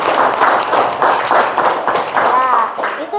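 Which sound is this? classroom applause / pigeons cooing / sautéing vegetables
classroom applause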